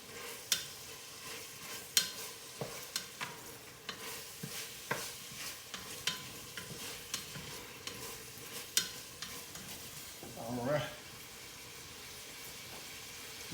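Gnocchi, sausage and blistering tomatoes frying in a pot, a low sizzle under repeated sharp clicks and taps of a stirring spoon, with a brief rustling surge near the end.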